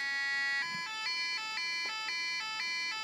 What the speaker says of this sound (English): And we have a two-tone siren.